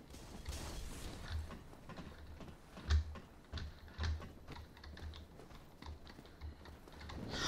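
Computer keyboard keys pressed during play of Dark Souls Remastered, quiet irregular clicks and taps with a few sharper louder strokes amid low background noise.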